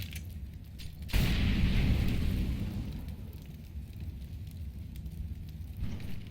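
A Molotov cocktail bursts into flame and keeps burning on the Cache map in Counter-Strike, a sudden loud whoosh followed by a steady roaring crackle that slowly settles over several seconds.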